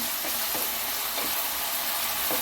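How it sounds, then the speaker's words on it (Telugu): Onions frying in a pan toward golden brown make a loud, continuous close-up sizzle, with soft stirring scrapes recurring every half second or so and no talking. "ఆనియన్స్ అయితే గోల్డెన్ బ్రౌన్ కలర్ వరకు ఫ్రై అయిపోవాలి"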